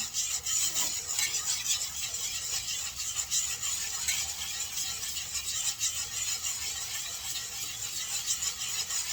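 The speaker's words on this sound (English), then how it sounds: "Just keep whisking." A whisk scrapes continuously through cream cheese sauce for Cajun chicken alfredo, a close, steady rasping and rubbing against the pan with no talking.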